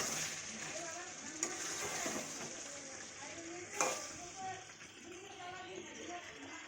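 Spices frying in a pan with potatoes, stirred steadily, a continuous sizzle with occasional scraping clatters of the spoon, close and moderately loud throughout.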